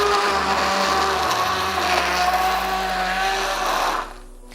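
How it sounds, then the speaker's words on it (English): Immersion blender blending a smoothie, a loud continuous motor whir with shifting pitch as the blade churns, cutting off abruptly near the end, no talking over it. "Now with the immersion blender"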